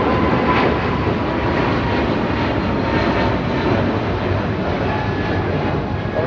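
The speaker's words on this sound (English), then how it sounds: "United 777 now taking off" A United Boeing 777 roars steadily on its takeoff run at LAX, a loud continuous engine rumble with a broad high whine holding evenly throughout, no voices over it.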